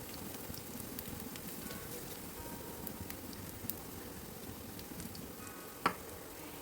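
Chopped ginger and garlic sizzle steadily in coconut oil for a Kerala-style fish fry, a soft continuous frying hiss with one brief sharper pop near the end.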